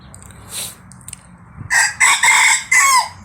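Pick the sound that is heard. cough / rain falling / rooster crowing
rooster crowing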